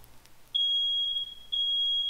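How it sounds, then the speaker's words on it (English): A household smoke alarm, triggered by heavy smoke from burning homemade napalm, sounds two loud, piercing high-pitched beeps in steady succession, each sustained for about a second, with no one speaking. "you end up setting off my fire alarm"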